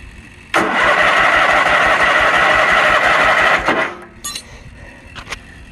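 A Kohler Magnum 20 small engine cranks, catches and runs loud and steady for about three seconds on its first start, then cuts out and dies, followed by a few faint clicks and knocks.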